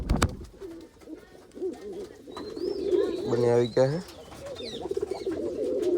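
Pigeons coo in a loft while someone talks over them, with a burst of louder, closer cooing partway through.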